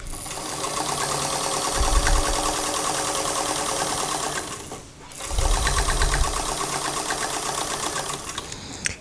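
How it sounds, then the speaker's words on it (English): A sewing machine stitches lace down along the hem of wide-legged pants, running in a steady rapid mechanical rattle for several seconds. It pauses briefly, then resumes at the same close, loud pace, with no talking. "now all I have to do is machine stitch down the edge of the lace here"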